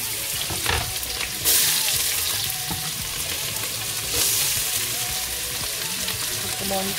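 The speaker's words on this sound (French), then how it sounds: "Mon huile a déjà bien chauffé. Je vais mettre les oignons." Onions frying in hot oil for a malangwa sauce, a steady loud sizzle with occasional stirring scrapes and brief bursts of hiss, close up with no talking.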